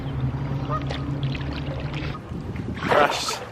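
A boat paddled on the Beaulieu River in the New Forest, with a low steady hum under it and a single louder splash of water near the end.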